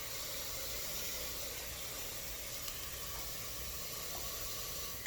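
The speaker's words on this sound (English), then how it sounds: "I got my onions, carrots, and celery kind of sauteing together with a little bit of olive" Onions, carrots and celery sauteing in olive oil in a pan, a steady close sizzle and hiss that holds evenly throughout with no talking.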